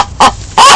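A chicken gives two quick, close clucks, the second slightly longer, in a brief, clear burst with nothing else around it.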